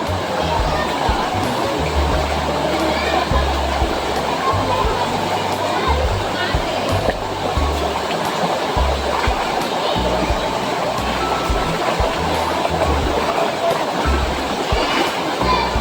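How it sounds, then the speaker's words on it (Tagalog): River water rushes steadily while clothes are washed by hand at the riverside, a loud continuous broadband flow with splashing and thumps, and people talking over it at times. "Dito na sa ilog."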